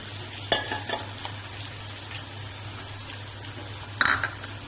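Gram flour fries in a pan with tomato for pithla, a soft steady sizzle under occasional scrapes of a spoon stirring against the metal.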